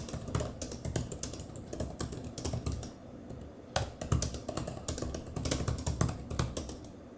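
Typing on the keyboard of an M4 iPad Pro: a continuous, close stream of crisp key clicks in irregular bursts, with a few brief pauses and louder taps.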